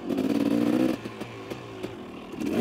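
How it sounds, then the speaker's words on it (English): A motocross motorcycle engine revs hard and buzzes, then drops to a clattering idle broken by short blips of the throttle, and rises again at the end. It is fairly close, and no one speaks. "He was sitting on that rev limiter."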